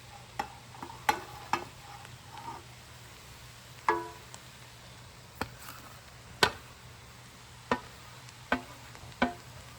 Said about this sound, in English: Mix it a little bit with the rice so the flavors goes into rice.